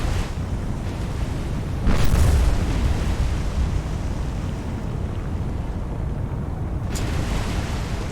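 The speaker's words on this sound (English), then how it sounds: "massive explosions." A burning ship in the War on the Sea naval video game booms with a loud explosion, followed later by a sharper burst. Both sit over a continuous roaring, crackling fire and low rumble.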